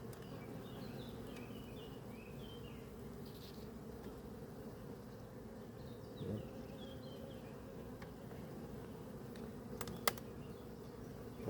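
Bees buzzing in a steady, continuous drone, moderately near, over a constant low background hum, with occasional faint clicks and one sharp tap near the end.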